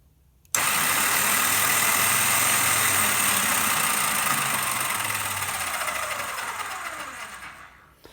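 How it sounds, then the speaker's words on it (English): A Honda Goldwing motorcycle's electric starter motor turns over continuously for about seven seconds, a steady whirring grind close by that slowly fades and drops in pitch toward the end, with no talking. "You can hear the starter turning, which is not a good sign."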